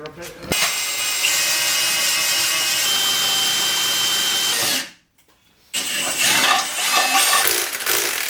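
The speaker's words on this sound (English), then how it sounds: "line it all up now, and match it, and drill that hole." A loud, steady power-drill whine runs for several seconds, cuts out briefly, then resumes with rougher grinding as the bit works through metal, drilling a hole while fitting coilovers to a BMW E46's front suspension.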